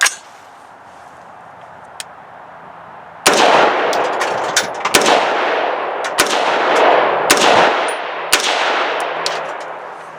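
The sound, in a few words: unsuppressed rifle shots with 2-port muzzle brake, 55 grain FMJ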